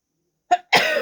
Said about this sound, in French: Ah, je vais éternuer.